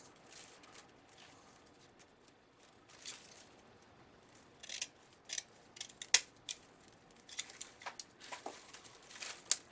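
Slightly dull scissors cut ribbon in a series of sharp, crisp snips, sparse at first and then quicker and louder, close to the listener in a quiet room.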